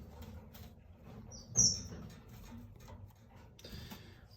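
Caged cordon bleu finches and other small aviary birds give a few brief, high chirps, one sharper call standing out near the middle, against a low background hum.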